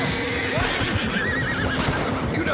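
A horse whinnies loudly with a wavering, drawn-out neigh over clip-clopping hooves and busy Red Dead Redemption 2 game background sounds.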